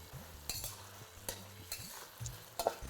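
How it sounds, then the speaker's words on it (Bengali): Onions frying in a pan over a high flame for mutton curry, with quiet sizzling under intermittent scraping stirs of a spatula against the pan, several sharp clanks spaced across. "একদম হাই ফ্লেমে এটাকে ভালো করে ভাজতে থাকুন"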